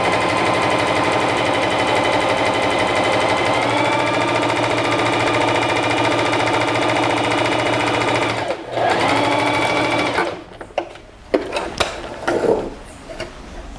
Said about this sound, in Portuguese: A gente vai pegar essa peça, vai passar uma costura daqui até aqui